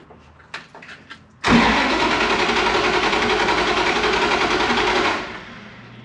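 Drag race Jeep funny car engine cranking over on the starter for an oil pressure check, a few clicks and then a sudden loud, steady whirring crank lasting several seconds before it cuts off.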